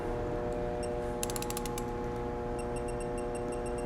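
RALVICO 1/2-inch digital torque wrench being cranked, a continuous mechanical ratcheting under steady background noise with brief sharp electronic beeps near the end.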